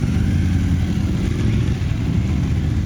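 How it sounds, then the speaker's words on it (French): A steady, loud engine rumble as motorcycle riders pull away to a training site, continuous and close, with no speech. "Les participants sont ensuite montés sur leur moto pour se rendre sur le lieu d'entraînement."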